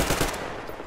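Rapid automatic gunfire from the video game Metro Exodus, a dense loud burst of shots blurring into a continuous rattle for about a second, with no speech over it.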